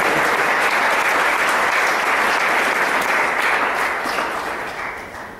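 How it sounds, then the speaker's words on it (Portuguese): A church congregation applauding the Lord, loud dense clapping from many hands that holds steady, then gradually fades toward the end, with no talking over it. "Pode aplaudir o Senhor."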